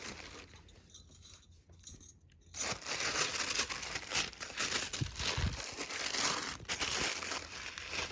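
Packaging from Chloe espadrilles crinkles as it is unboxed: crisp crumpling and rustling of paper or plastic, close by, building to a loud, continuous crackle after a quieter start.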